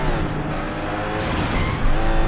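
A car in the video game Sleeping Dogs drives hard, its engine roaring steadily with tire squeal throughout, loud and close with no talk over it.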